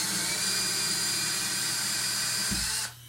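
A power drill turning on a Murphy bed build whirs steadily at close range with a high motor whine, then winds down and stops near the end.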